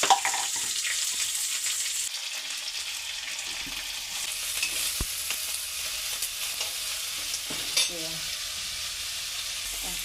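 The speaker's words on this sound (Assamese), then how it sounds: "এতিয়া মই পিঁয়াজ আৰু কেপচিকাম, এইটো কেপচিকাম হ'ল" Onion and capsicum fry in a pan with a loud, continuous hissing sizzle, broken by occasional stirring scrapes and a faint watery crackle.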